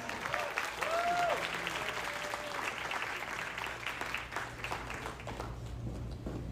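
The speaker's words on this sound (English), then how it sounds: "Big round of applause for beautiful brides." Wedding guests break into sustained applause for the brides, a dense wash of many hands clapping at moderate distance, with an announcer's voice over the start.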